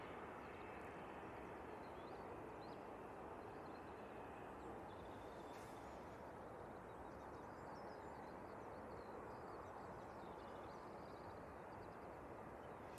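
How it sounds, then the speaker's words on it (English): A distant Aer Lingus A330-300 airliner approaching to land at Manchester Airport gives a faint, steady broadband roar that stays even throughout, heard from behind bushes with no speech. "Next in, we have the Aer Lingus A330-300 coming in from Bridgetown. I can hear it behind the bushes."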